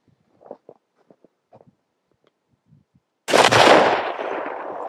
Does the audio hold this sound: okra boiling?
no